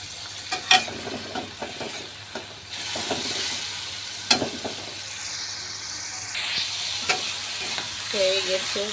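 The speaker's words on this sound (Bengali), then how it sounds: "পানিটা টেনে গেলে একটু তেল দিয়ে ভেজে নেব" Shrimp fry in oil in a wok after the water cooks off, with a constant sizzle broken by sharp scrapes and clacks of stirring at irregular intervals, close by, with no speech.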